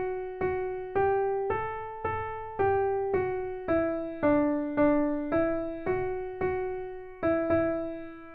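The opening question phrase of the Ode to Joy melody from the fourth movement of Beethoven's Ninth Symphony, played as about a dozen clean, evenly spaced single notes on a plucked or struck keyboard-like tone, alone and moderately soft.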